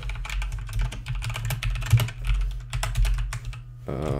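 Rapid, uneven keystrokes clatter on a computer keyboard typed with a microphone placed in front of it, close and crisp over a low steady hum, ending in a brief different tone.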